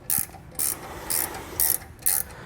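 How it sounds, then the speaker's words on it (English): A 9/16-inch wrench ratchets down base plate bolts on a 2021 Jeep Cherokee in five evenly spaced bursts of sharp, close clicking, with brief quiet gaps between strokes. "so we're just going to use a box wrench now"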